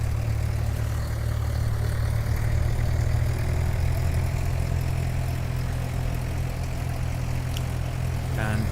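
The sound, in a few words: Flysimware Sierra C24R aircraft engine running in a flight simulator game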